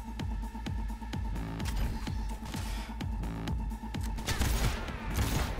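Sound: sniper rifle gunshots in video game Cyberpunk 2077

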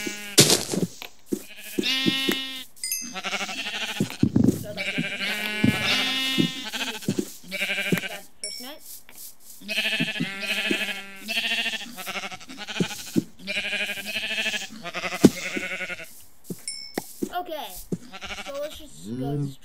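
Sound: sheep bleating in a video game

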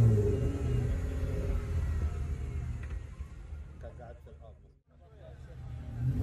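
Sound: car engine revving while being pulled from a ditch

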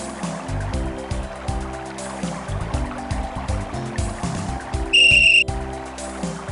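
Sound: whistle being blown, from the video game Simon the Sorcerer

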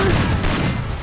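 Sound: gunfire in a mobile shooting video game

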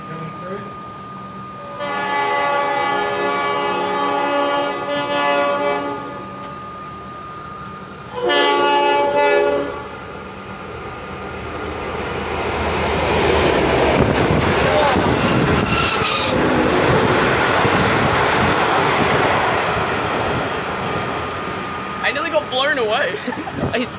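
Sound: express B-line train passing through Sunbury station

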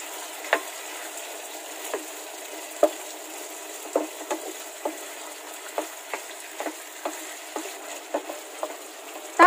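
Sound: pork frying and being stirred with oyster sauce

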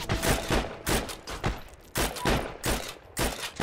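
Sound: gunfire in the video game Heroes and Generals

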